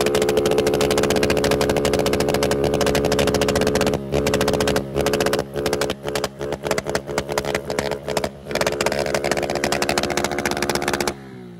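A motorcycle engine fitted with an Athlon ignition module roars close and loud at high revs, then bounces in rapid choppy bursts as the throttle is blipped over and over.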